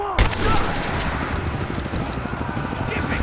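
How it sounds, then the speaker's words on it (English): Sustained gunfire in the video game Rise of the Tomb Raider at the edge of a village, a dense, continuous burst of shots that starts sharply and keeps rattling loud and close throughout. "We're under fire at the edge of the village."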